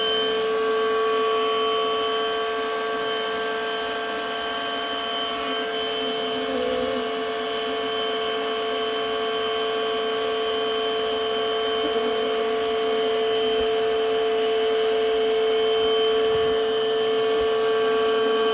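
A steady, loud vacuum motor drones continuously with a whining tonal hum, occasional faint rattles and shifts in pitch as it sucks up bees in a house.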